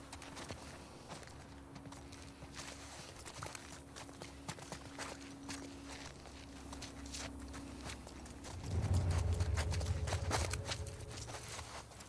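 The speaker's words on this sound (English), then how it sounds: "I can hear footsteps" Footsteps in the video game The Last of Us Part II, a steady run of soft, close steps with a low rumble swelling in near the end; no talking.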